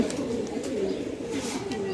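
Giribaz pigeons coo continuously in low, throaty rolling calls, close by, with several birds overlapping.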